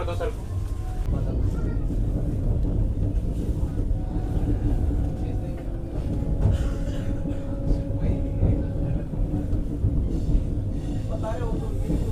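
An Indian Vande Bharat sleeper train runs on its rails, giving a steady low rumble and rattle that lasts throughout while a person talks over it.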